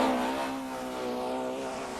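Touring race cars, a Vauxhall and a BMW, scream past at full throttle in a 1993 BTCC race, with a loud, sustained engine whine that dips slightly in pitch.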